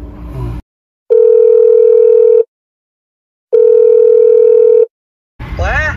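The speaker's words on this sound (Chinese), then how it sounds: "只有给老板打电话了吗？" Two long, steady telephone tones, each lasting over a second with a silent gap between, sound loud and clean on a call to the boss, with brief speech just before and after.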